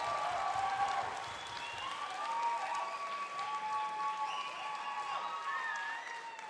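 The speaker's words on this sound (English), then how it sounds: "So we have a round of applause for Harrison." A crowd at an MMA fight night applauds fighter Harrison with sustained, full clapping, and scattered whistles and cheers ride over the steady wash of hands throughout.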